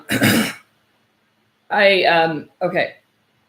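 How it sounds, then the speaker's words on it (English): A short throat clearing followed after a pause by two hoarse coughing bursts, close and loud, with no talk. "So I've been coughing ever since I've gotten here."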